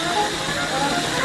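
A steam engine sets off, giving a steady broadband hiss of escaping steam that holds loud and even throughout, with a faint rumble beneath.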